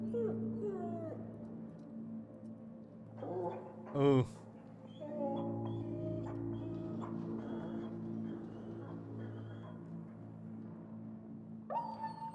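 An injured dog in the video game Dying Light 2 whimpers and yelps in high, wavering whines over a low droning game background, with a man's brief exclamation partway through.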